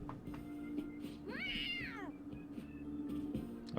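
A cat meows once in Persona 5 Royal, a rising and falling cry over a steady background game hum, fairly close and clear, with no talking.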